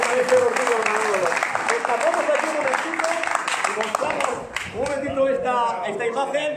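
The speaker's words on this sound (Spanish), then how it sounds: "Un aplauso para Lolo." Applause for Lolo rings out at a football club's anniversary celebration, with clapping filling the space while a voice speaks over it and continues as the clapping fades.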